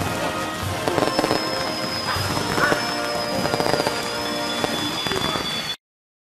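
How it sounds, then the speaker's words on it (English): A small indoor firework fizzes and crackles continuously with rapid popping bursts, loud and close, then cuts off abruptly into silence. "Do not light firework indoor. Oh, but it's a baby firework."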